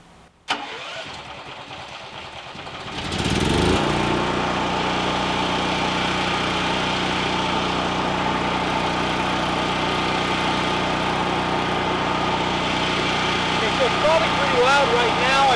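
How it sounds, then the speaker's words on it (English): A generator runs near an Alaska cabin build and is joined by a power saw. A quieter hum swells abruptly at about three seconds into a loud, steady, close mechanical roar that holds to the end. "I'm going to show you exactly how loud it is with the generator on and this saw going right now"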